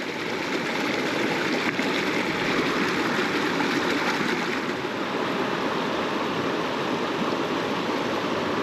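A Wyoming river streams past in a steady, close, broadband rush of flowing water that holds an even level from start to finish, with no voices over it.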